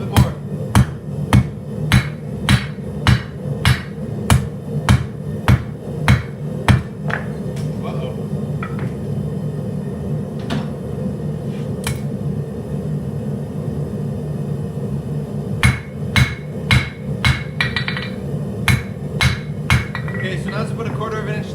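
A hammer forges hot 52100 steel on an anvil while a kitchen knife is being drawn out, striking in sharp, ringing blows at a quick steady rhythm. The strikes pause midway over a constant low roar from the forge, then resume.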